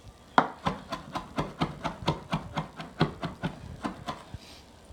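Fresh oregano is chopped finely with a knife on a cutting board: about sixteen crisp, evenly paced strikes, close and distinct, with no talking.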